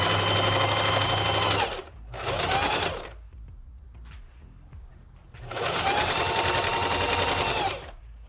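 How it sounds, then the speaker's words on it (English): Sewing machine stitching a folded, ironed hem on a cropped men's shirt, loud close-up runs in three bursts with short pauses between them and no speech. "And we're just gonna keep sewing."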